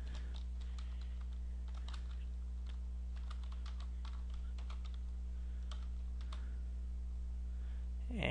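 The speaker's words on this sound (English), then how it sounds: "Now we go ahead and enter in our password." A password being typed on a computer keyboard, a quick run of soft key clicks in irregular bursts against a quiet background.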